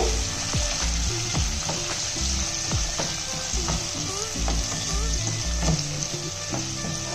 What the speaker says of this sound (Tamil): தக்காளியும் சேர்த்துட்டு இதையும் நல்லா வந்து சுருளை வதக்கி விட்டுக்கலாம்